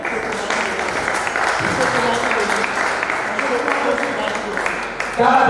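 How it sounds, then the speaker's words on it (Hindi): A crowd at a Hindu temple consecration festival in Indore claps, producing a dense, steady wash of applause that carries on without pause for several seconds. "जोरदार ताली बजाइए"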